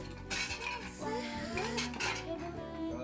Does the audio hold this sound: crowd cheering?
no